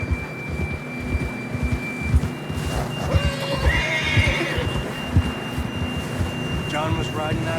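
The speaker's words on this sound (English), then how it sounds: "John was riding that horse when we left Blackwater" A horse in the snowy wilderness of the video game Red Dead Redemption 2 neighs and whinnies over steady clip-clopping hooves, with wind noise and a low hum underneath.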